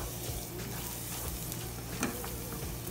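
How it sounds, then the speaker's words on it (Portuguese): Small chopped onion frying in oil in a frying pan gives a quiet, steady sizzle with faint stirring, with no talk over it. "Agora aqui na frigideira eu vou colocar o óleo. A cebola, uma cebola cortadinha, pequena."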